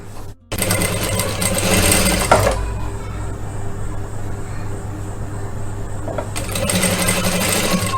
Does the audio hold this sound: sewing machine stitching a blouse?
yes